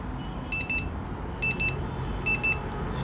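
Short, high electronic beeps from an infrared gun thermometer sound in pairs, repeating about once a second over faint background hum.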